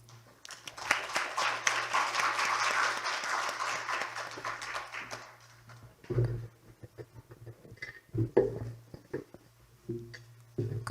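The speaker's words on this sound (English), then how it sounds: "Please welcome her with a round of applause" An audience at an international criminology and justice forum applauds to welcome a speaker, a dense round of clapping lasting about five seconds before fading into scattered thumps and room noise.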